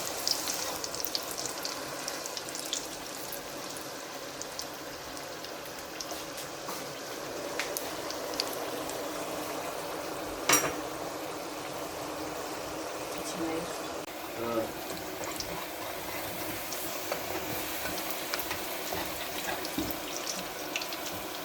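Vainakh khvorost (zoakash) dough frying in hot oil gives a steady, close crackling sizzle with bubbling throughout, one sharper pop near the middle, while someone talks over it.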